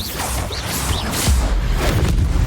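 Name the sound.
Bombarda spell blast in Hogwarts Legacy video game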